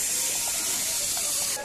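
Basmati rice boils in a covered pot, giving off a steady, close steam hiss and soft bubbling throughout.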